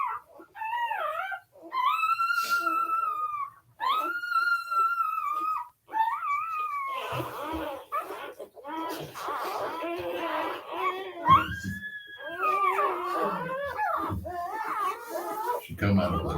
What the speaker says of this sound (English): She heard that puppy.